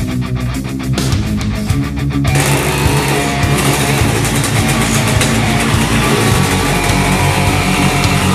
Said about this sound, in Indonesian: ini motor yang sangat sejarah buat saya, yaitu Yamaha F1 ZR